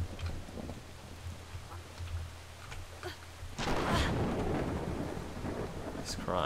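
In the video game Brothers: A Tale of Two Sons, steady rain patters beneath low thunder rumbles, then surges into a louder, denser downpour about halfway through and stays heavy to the end.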